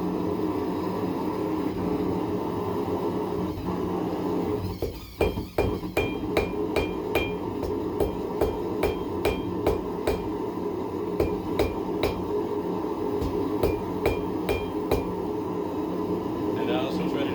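A hammer forges hot steel, drawing out a long, thin taper, with a steady series of sharp metallic strikes that starts partway through and continues over a constant background hum.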